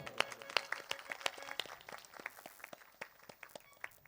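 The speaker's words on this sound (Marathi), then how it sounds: "आता सगळे टाळी वाजून बाबांचं स्वागत." An audience at an Akhand Harinam Saptah kirtan gathering in Ban village, Sengaon, Hingoli, claps to welcome a guest; the claps are faint, sharp and fairly evenly spaced, gradually loosening into scattered hits.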